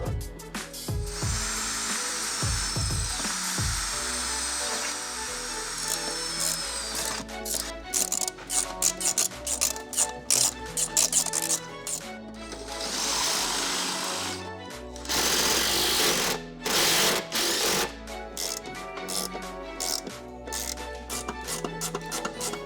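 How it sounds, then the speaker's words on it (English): A power drill bores mounting holes into a carbon fiber part for a vehicle, whining in repeated short bursts with pauses, close and fairly loud. "I'm gonna go ahead and drill, put those fasten locations on the vehicle as well"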